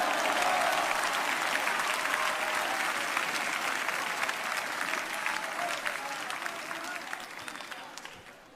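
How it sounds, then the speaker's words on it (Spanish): A church congregation breaks into sustained, dense applause in praise, loud and even at first, then gradually thinning and fading toward the end. "Dele palmas al Señor."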